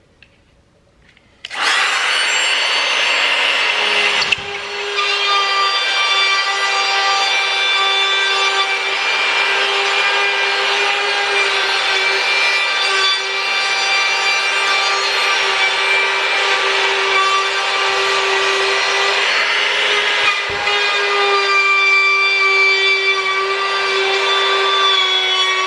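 A power tool bit routs steadily through drywall around an outlet box, a loud, sustained whining cut that runs without a break for over twenty seconds after a sudden start, with a brief dip near the middle and no voices.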